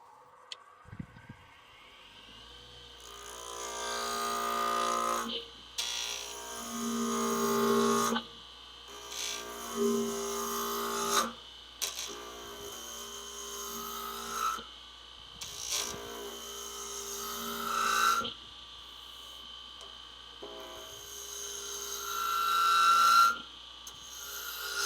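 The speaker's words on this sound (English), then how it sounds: "from here, we're gonna fire up the lathe" A wood lathe hums to life, then tools scrape and rasp against a small spinning wooden bowl in repeated bursts over a steady motor drone, close up and without talk.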